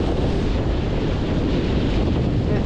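Strong wind roars steadily across the microphone aboard a Hobie Getaway catamaran sailing off South Texas, a dense, continuous buffeting rush with no break and no voices.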